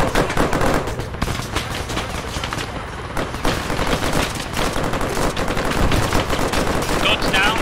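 Sustained rapid gunfire from Arma 3 during a naval mission, dense overlapping automatic bursts and shots rattling continuously at close range, with shouting voices underneath.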